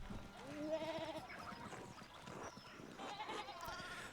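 Sheep bleating in the video game Pentiment, loose animals at an abbey, with a couple of wavering bleats early on over a busy game soundscape and another fainter bleat later.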